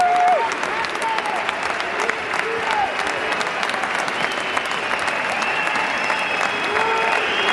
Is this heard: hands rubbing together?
no